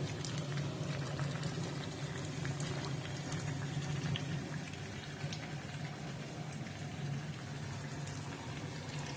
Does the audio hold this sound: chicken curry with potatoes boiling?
yes